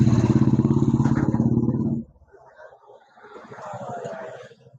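A motorcycle engine runs loud and close with a fast, throbbing rumble for about two seconds, then cuts out abruptly, leaving quieter mixed background sound with faint voices.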